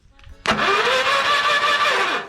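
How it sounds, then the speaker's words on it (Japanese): Starter motor cranking the engine of an amphibious vehicle recovered from a snow-crushed barn, with a suspect relay. A click, then a loud, steady whirring crank holds for about two seconds before fading, with no voices. "ちょっと諦めて従来の方法でセルを回してみようか。"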